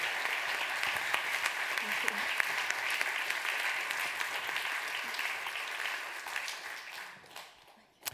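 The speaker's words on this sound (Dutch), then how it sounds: "u mag straks aan het eind nog veel harder klappen voor Ladan en de anderen" Dense, sustained audience applause filling the room, holding steady before tapering off near the end.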